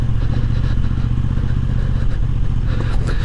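A Moto Guzzi V85 TT motorcycle rides a rough green lane trail, its V-twin engine chugging steadily and loud close by, with occasional clatter and thumps from the uneven ground.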